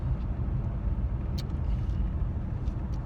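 Very quiet car engine while driving down a road, hushed like a Prius: a low, smooth, steady rumble with faint road noise and no talking.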